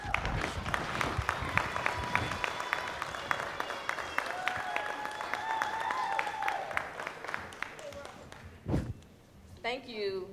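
Audience applause at a youth public speaking event, a crowd clapping steadily with some voices talking over it, then fading out near the end.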